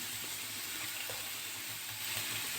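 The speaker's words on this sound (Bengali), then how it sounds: "তার সঙ্গে ফুলকপিটাকে ভাজবো" Cauliflower fries with spices in a pan, giving an even, dense hiss of sizzling oil that stays loud and steady throughout without pauses or voices.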